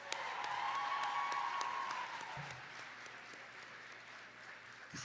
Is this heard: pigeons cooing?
no